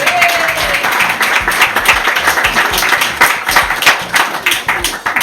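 Applause from a magic show audience as a volunteer spectator is called up, dense clapping that stays steady and fairly loud throughout, with a brief voice near the start.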